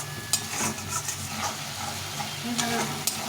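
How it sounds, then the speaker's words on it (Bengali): Vegetables with drumstick and a spice paste stirred and sautéed in a pan, a steady sizzle under repeated scraping strokes of a spoon, close and moderately loud, no talking. "এটাকে ভালো করে একটু কষিয়ে নিতে হবে মশলাটাকে"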